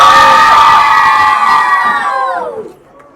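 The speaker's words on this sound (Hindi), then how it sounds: "बच्चे लोग चिल्लाओ।" A crowd of children shouts and cheers loudly at a launch event, a sustained high massed yell that swells and then fades out near the end.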